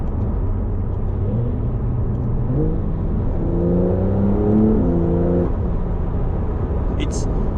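A 2020 Porsche 911 Carrera S (992) engine idles with a deep rumble, then revs up in a few throaty pulses in Sport Plus mode before settling back; someone talks over it.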